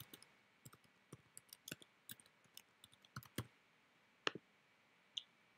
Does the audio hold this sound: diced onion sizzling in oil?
no